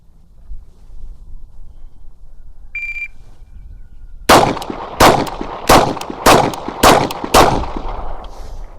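Pistol fired from a full-size magazine with a +2 extension during barrel testing drills: six loud, sharp shots in quick, fairly even succession, each with a short echoing tail, after a faint electronic beep.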